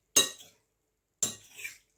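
A spoon clinks and scrapes twice against a pan while Jerusalem artichokes seasoned with salt and pepper are stirred, two short, close, crisp bursts with silence between.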